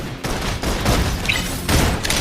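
Suppression gunfire in the video game Love & Deepspace, sustained bursts of rapid shots with a brief lull, then another heavy volley, loud and close.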